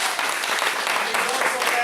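An audience applauds at a belt ceremony at a family martial arts center in Mount Dora, Florida, a dense, steady patter of clapping close to the listener for about two seconds.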